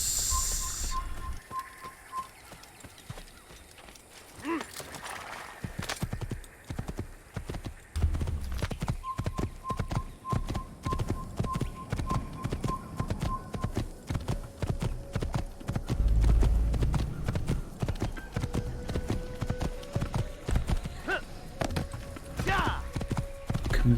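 Horse hooves clip-clop steadily and fairly close in Assassin's Creed, a continuous rhythmic trot running under game sounds, with occasional whistle-like tones and someone speaking at times.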